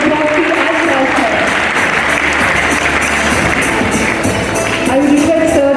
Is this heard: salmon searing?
no